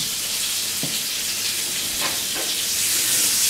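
Beef rump steak sizzles steadily in butter with pepper in a hot pan, a loud continuous frying hiss broken by a few soft knocks.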